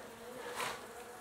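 Russian honey bees buzz faintly around a hive, a soft, steady hum that swells slightly at the middle of the brief moment, with no voices.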